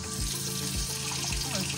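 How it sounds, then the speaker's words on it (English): Water runs from a tap in a truck camper after a water pump replacement, a steady close rush with a low pulsing hum beneath it. "let's go ahead and run some water"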